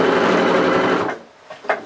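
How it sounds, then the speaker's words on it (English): A sewing machine stitching two fabric leg pieces together along their front sides: a loud, steady mechanical whirr that stops abruptly, followed by a couple of brief clicks and handling noises. "I'm going to sew the front sides of those together."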